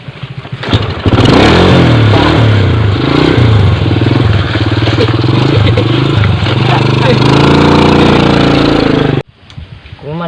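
A motorcycle engine revs loudly and close, wavering through rising and falling throttle for several seconds before cutting off abruptly, with a voice talking over it.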